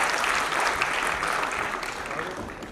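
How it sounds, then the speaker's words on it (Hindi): Loud crowd applause at a Yadav community welfare gathering in Chandigarh, a dense burst of clapping from the audience that holds steady and fades slightly near the end. "एक बार जोरदार तालियां आपके लिए"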